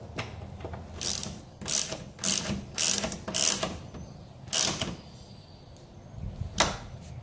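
A ratchet clicks in short bursts as bolts are tightened on a 2007 Chevy Silverado tailgate handle cover, sharp metallic ratcheting close up, with pauses between strokes.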